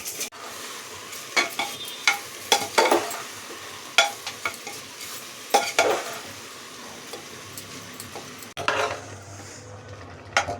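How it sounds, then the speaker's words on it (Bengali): Green chillies fry in hot oil tempering for khichuri, with a steady sizzle broken by repeated sharp scrapes and clinks of a spatula stirring in the pan, close up and without talk. "দিয়ে কিছুক্ষণ ভেজে নেব। কটা কাঁচা লঙ্কাও একটু ফোড়নে দিয়ে দিলাম।"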